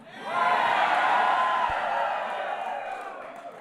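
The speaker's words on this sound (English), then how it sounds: "This is a rowdy crowd." Rowdy crowd at a presidential LGBT Pride Month reception, a dense sustained roar of cheering and whooping that swells in quickly and holds loud throughout, with no clear speech.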